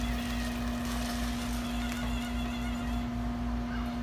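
Golf cart engine running steadily while the cart drives, a continuous droning hum with a strong low tone and rumble, fairly close and unbroken throughout.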